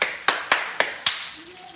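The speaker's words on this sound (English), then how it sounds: "Round of applause." Five sharp hand claps ring out in a quick, slightly uneven rhythm, close and crisp in a quiet room, followed by a faint voice.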